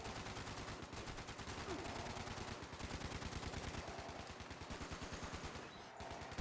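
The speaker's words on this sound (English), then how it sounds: "what's that rocket shooting at?" Rapid automatic gunfire from a rocket turret in Fallout 76 rattles on continuously at close range, a dense, steady burst of shots with brief gaps, and no talking over it.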